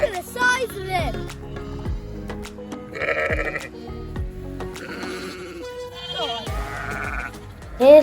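A big lamb bleats loudly and repeatedly inside a lambing shed, close and wavering, with other sheep calling and a person's voice now and then in the background.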